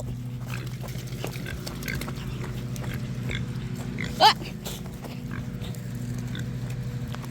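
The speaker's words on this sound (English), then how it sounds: "So the pigs are back here." Pigs in a muddy backyard pen make a steady low grunting drone, with one brief sharper squeal or snort standing out near the end.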